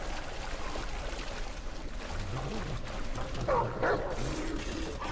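A dog companion in the video game Remnant barks a few times, moderately loud, over a continuous rushing game ambience.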